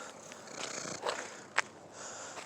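A male house cat purrs close to the recorder, held after being picked up, a soft continuous rumble with a couple of brief snorts or sniffs.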